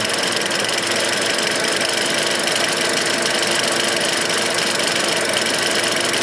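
A car engine idles with the air conditioning switched back on, a steady dense hum with a faint knocking texture, loud and uninterrupted, no talking.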